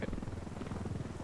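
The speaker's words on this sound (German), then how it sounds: "feindlicher Hubschrauber nähert sich" Enemy helicopter approaching in the video game Ghost Recon Wildlands, a steady rhythmic rotor thudding heard throughout the short clip at moderate loudness.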